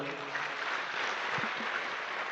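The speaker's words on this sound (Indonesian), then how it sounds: "beri aplaus buat beliau Pak" An audience applauds for Louis Tendian at a speaking event, a dense steady clapping from a large crowd that carries on evenly throughout.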